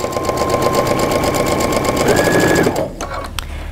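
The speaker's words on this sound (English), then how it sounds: "On my sewing machine, you can see I use a 1/4 inch foot that has a guide on it." A sewing machine fitted with a quarter-inch guide foot stitches a seam in fabric, a close, steady motor whir with rapid needle chatter that runs for almost three seconds, then stops abruptly and leaves a few faint clicks.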